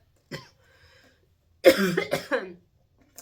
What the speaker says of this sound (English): I started coughing on my spit